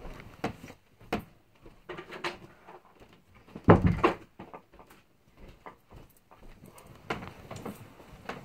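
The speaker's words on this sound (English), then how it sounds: "Give me a second, I'm gonna shut the door." Scattered clicks and knocks lead to one loud thud as a door is pushed shut, followed by quieter handling noises.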